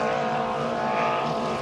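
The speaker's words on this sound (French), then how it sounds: "ces moteurs-là qui propulsent les embarcations là, très rapidement, des moteurs modifiés de 1 litre" A small vintage racing boat with a modified 1-litre engine at a Valleyfield regatta gives off a steady, loud engine drone that holds without a break throughout.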